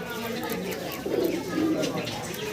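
Pigeons coo and call at night in a loft, roused by a camera light; soft, low cooing swells midway, with faint background noise throughout.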